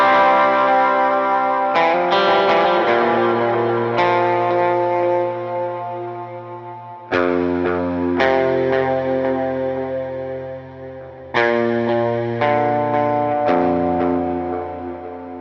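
Electric lead guitar plays the chorus of a song through effects, with chorus, delay and light distortion. Sustained notes ring out and slowly decay, and new notes and raked chords are struck every couple of seconds, loud and without talk.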